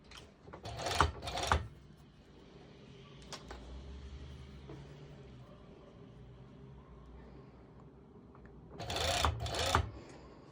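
A sewing machine stitches through a swim skort waistband in two loud, fast bursts near the start and end, with a quieter stretch of handling between them.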